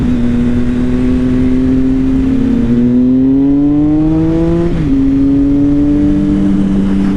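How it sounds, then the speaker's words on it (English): A steady engine drone from a motorcycle being ridden, unlike a Suzuki GSX-R, rises and falls in pitch with throttle changes and a shift partway through, loud and close throughout. "This bike sounds so good."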